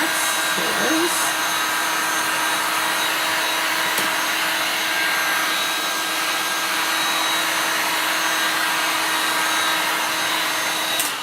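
Heat tool blowing hot air over a wood board: a loud, steady, continuous whirring rush that runs unbroken throughout, with a faint click partway.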